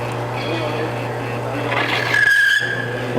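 Oil friction test machine spun by its motor while testing a polyalphaolefin and brand-name motor oil, giving a steady mechanical hum with a rising squeal that peaks and cuts out near the end, under a voice.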